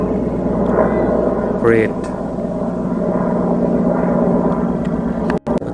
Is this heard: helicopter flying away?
yes